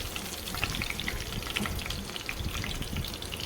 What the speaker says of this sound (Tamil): பெருஞ்சீரகம் போட்டுக்கோங்க ஜீரகம் போட்டுக்கோங்க ஓமம் சேர்த்துக்கோங்க எல்லாம் நல்லா பொரியட்டும்